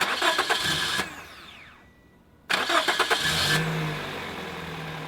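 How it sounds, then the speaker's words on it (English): A car engine cranks a few times after a battery reset, pauses, then cranks again and catches, settling into a steady idle close by; no talking. "That thing normally just starts the first crank, but I had to crank it a couple of times because it's resetting stuff."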